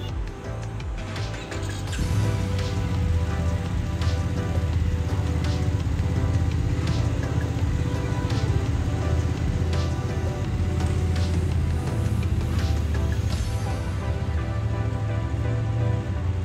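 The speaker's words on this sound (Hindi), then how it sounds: "चलो बारिश आ जाएगी।" Steady rain patters across a surface in Guwahati, India, a dense continuous hiss with a low rumble underneath, growing fuller after the first couple of seconds.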